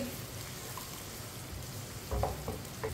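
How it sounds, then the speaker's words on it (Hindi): Chopped onion frying in oil or ghee with whole cumin and coriander seeds, a soft continuous sizzle with a few scraping stirs of a spoon near the end. "प्याज को इसी तरह चम्मच चलाते हुए ब्राउन करना है"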